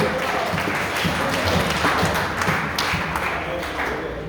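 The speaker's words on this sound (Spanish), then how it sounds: "Den un fuerte aplauso al Señor." A congregation in a Spanish-language evangelical church service bursts into sustained, dense applause that fills the room and tapers slightly near the end.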